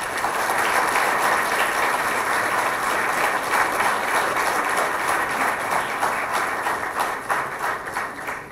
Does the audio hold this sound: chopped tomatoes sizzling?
no